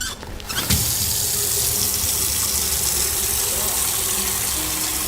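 A tap runs steadily into a container in a lab, a constant loud rush of water after a brief clatter at the start.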